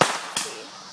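Fourth of July fireworks popping sharply in the background, two crisp bangs about a third of a second apart with short crackling decay between them.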